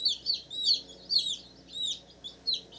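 Newly hatched chicks peep in a box, a run of high, bright chirps that repeat steadily and close by over a faint low background, with no talking.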